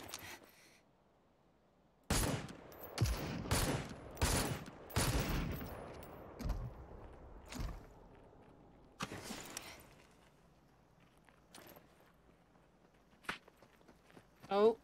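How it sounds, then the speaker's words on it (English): Gunfire in a multiplayer shooter video game, a series of sharp, loud bursts and single shots clustered over several seconds, followed by sparser, fainter pops and thuds, with scattered footstep-like sounds and occasional speech. "Oh, someone's shooting at me."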